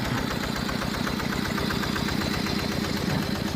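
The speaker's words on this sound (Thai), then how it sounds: "อันนี้เป็นเสียงของเครื่องที่ติดหรือว่าเฟซสมบูรณ์แล้วนะครับ" A Yanmar single-cylinder diesel engine, freshly fitted with a new cylinder head and valves, idles with a steady, rapid knocking thump, close and continuous, with no voices.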